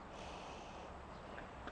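A dog sniffs rapidly outdoors in warm weather, quick faint nasal snorts over a steady hiss of background noise, with no one talking.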